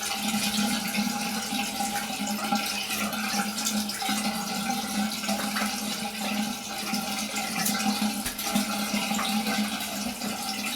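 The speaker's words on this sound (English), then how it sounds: "I'm going to rinse my face off" Water runs steadily from a tap as a face is rinsed after a wet shave with a GEM 1912 safety razor, a continuous, fairly loud splashing rush with no talking.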